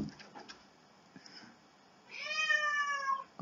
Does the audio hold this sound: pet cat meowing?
yes